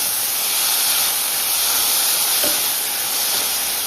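Chopped onions and green chillies sauté in a pan over a tempering of mustard seeds and urad dal, giving a steady, close, dense sizzling hiss that continues without a break.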